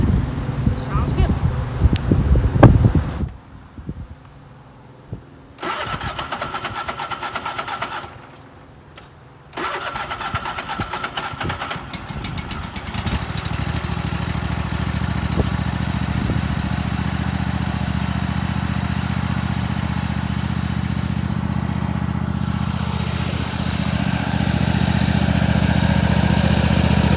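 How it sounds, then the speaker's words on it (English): A Cub Cadet GT1554 lawn tractor with a 27 hp Kohler engine cranks in several bursts before catching, then settles into a steady, loud idle that keeps running evenly to the end. "This is the GT1554 on idle with that 27 horsepower Kohler engine."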